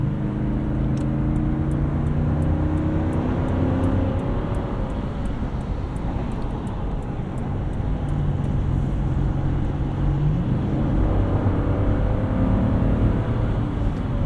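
Engine of a 2018 Lexus GX 460 cruising in sixth gear at highway speed, a steady low drone with road roar filling the cabin, continuous and even throughout with no voices.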